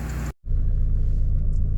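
A 1987 Dodge Shelby Charger turbo car drives with a steady, loud low engine rumble, broken by a brief near-silent cut early on, then continuing evenly.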